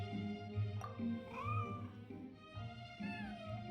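A white, fluffy cat in the video game Genshin Impact gives a series of clear, close meows, several rising-and-falling calls spaced through a few seconds over a soft steady backdrop.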